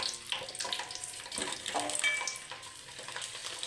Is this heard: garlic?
yes